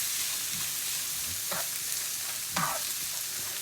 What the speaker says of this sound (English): So we're going to start frying the rice